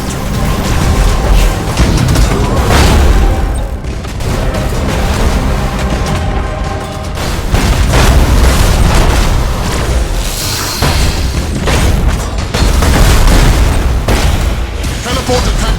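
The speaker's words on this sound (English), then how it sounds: "Thunderhawk bombardment!" Continuous heavy Thunderhawk bombardment in the space strategy game Battlefleet Gothic Armada 2, with loud booming blasts and crackling bursts layered densely for about fifteen seconds and no pause.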